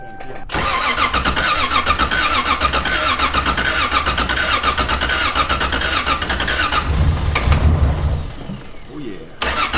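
A Toyota Supra with a 2JZ engine cranks and catches, then runs roughly and loudly without settling into a steady idle, with brief voices audible around it.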